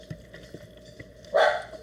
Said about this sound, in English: it wouldn't be a video of mine if I didn't have a dog barking in the background